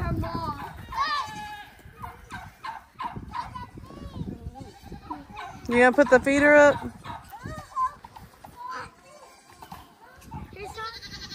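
Goats bleating on a farm with livestock guardian dogs, repeated loud bleats rising to a noisy cluster mid-way, heard under and between people talking nearby.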